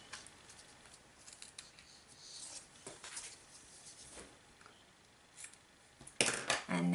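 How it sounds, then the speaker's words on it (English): Scissors snip paper for a criss cross card with quiet, close, scattered cuts, and one louder run of crisp snips near the end. "Just grab my scissors. And I just like to snip them off from this side."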